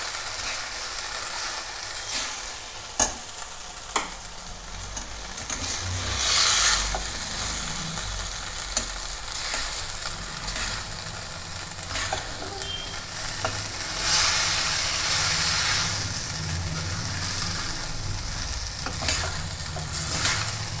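Veg hakka noodles are stir-fried in a pan with a continuous loud sizzle and hiss, while a utensil scrapes and tosses steadily, with occasional sharp clinks.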